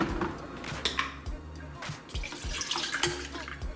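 A cup of almond milk is poured into a container in a kitchen: a soft, continuous liquid trickle and splash, fairly quiet and close, with faint clinks.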